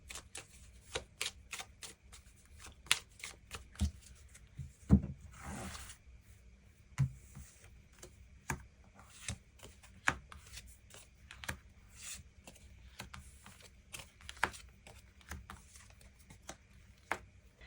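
Tarot cards being shuffled up close, a steady run of soft riffling and sliding strokes with brief pauses, quiet and without talk.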